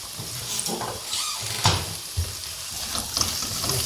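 Okra sabji seasoned with salt is stirred in a sizzling pan, a spatula knocking and scraping in several distinct strokes over a continuous frying hiss, without speech.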